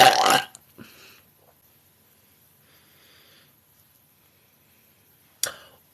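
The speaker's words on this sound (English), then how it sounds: "I'm the loudest women's burper in the world." A woman lets out one loud, close burp at the start, followed by a couple of faint short sounds, near silence, and a brief sharp noise near the end.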